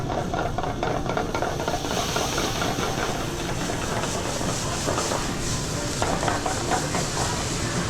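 Tomato sauce being stirred in a pot, a steady hiss and bubbling simmer with soft scraping and clinks of the spoon against the pot.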